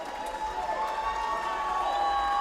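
A college men's basketball crowd at a Trinity University versus Texas Lutheran game, roaring and cheering steadily in a gym, a sustained mass of voices building slightly during a timeout.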